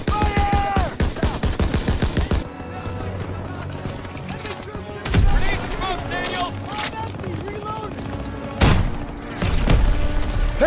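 Gunfire in a Call of Duty WW2 battle, with a rapid machine-gun burst of sharp repeated shots at the start followed by heavier booms and scattered fire under shouted voices.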